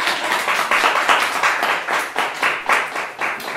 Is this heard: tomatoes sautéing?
no